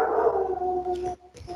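A dog lets out a sustained howl with a falling pitch, close and clear, breaking off briefly before a short second howl, with no talk.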